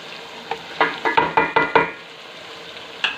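Spices for dal maash fry in a pan under a soft sizzle, with about seven quick rhythmic stirring scrapes in a row and one more a moment later, heard up close with no talking.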